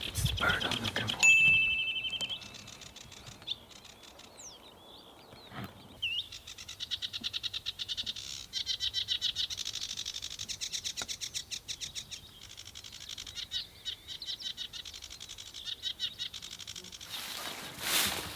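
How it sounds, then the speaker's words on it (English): A bird at a drained swamp in Sweden calls in a long series of rapid repeated notes, fairly close and steady, after a few seconds of rustling and handling noise. "It's the bird I'm looking for."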